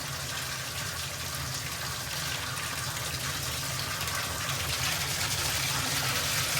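Water runs steadily from a shower fitted with a single-handle Moen Posi-Temp cartridge, a constant full hiss and rush with no pauses and no talk.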